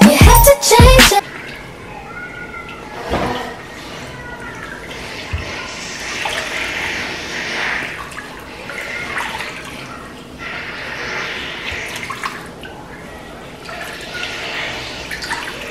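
Running water splashes steadily over hair and locs being rinsed after an apple cider vinegar rinse, a continuous wash of flow with a few sharp knocks at the start and no talking.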